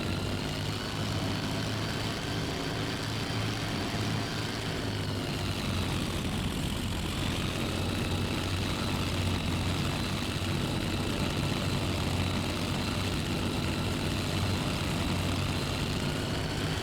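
Bf-109F-2 engine in the IL-2 Sturmovik (2001) flight game, a constant loud propeller drone through the takeoff run, with a slight shift in pitch partway through.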